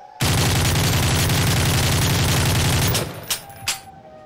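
Rapid automatic gunfire in a Siren Head video game rattles loudly and continuously for about three seconds, followed by a few separate sharp shots, with no voices.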